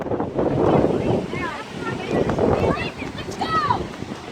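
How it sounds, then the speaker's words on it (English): Strong wind from a tornado roars loudly and steadily, buffeting the microphone in gusts, with excited voices shouting over the din. "Here comes the wind."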